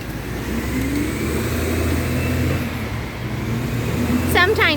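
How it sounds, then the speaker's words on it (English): Road traffic passes along a Seattle street near 5th and Harrison, a continuous engine rumble and tire roar from nearby cars with a short chirping sound near the end. "Sometimes it gets dicey with traffic here"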